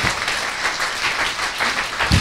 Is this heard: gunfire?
no